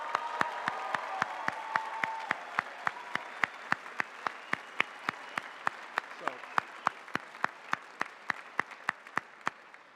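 A commencement crowd claps in a steady, rhythmic unison beat, each clap sharp and evenly spaced, with murmuring voices beneath that fade as the clapping continues.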